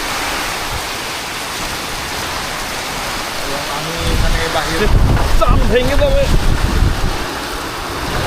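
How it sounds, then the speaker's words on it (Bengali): Dense, loud rain pours steadily in a Kalbaishakhi (nor'wester) storm, swelling halfway through as gusty wind roars in; someone talks briefly over the storm. "এখানে ঝড় এবং বৃষ্টি দুটাই একসাথেই হচ্ছে প্রচুর বৃষ্টি এবং প্রচুর ঝড়"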